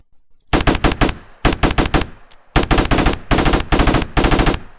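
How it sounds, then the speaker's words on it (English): Machine gun fire in a video game, loud close bursts of rapid shots in several strings separated by short pauses. "This feature will be particularly useful, especially with heavy weapons like machine guns"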